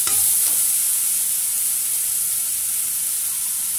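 Carrots sautéing with salt in a pan for chutney, a steady close sizzle and hiss that runs through the whole stretch, loudest at the start, with a brief stir near the beginning and no talking.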